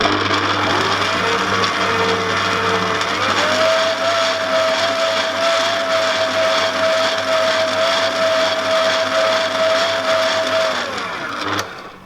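An electric mixer whirs steadily through lapis legit cake batter with milk powder added, a constant motor drone that shifts pitch once early and winds down at the end, with no talking.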